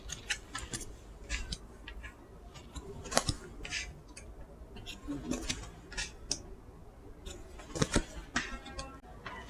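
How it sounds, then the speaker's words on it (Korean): Tarot cards are shuffled and drawn with crisp, close papery flicks and taps in irregular bursts, with soft talking now and then. "가까운 미래에 대해서 카드를 좀 뽑아볼게요."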